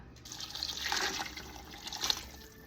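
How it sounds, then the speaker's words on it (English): Home-canned chicken broth pours from big jars into a soup pot, a steady liquid splash and trickle swelling twice before easing off, close by with no talk over it. "now we're gonna get our chicken broth and add our chicken broth in"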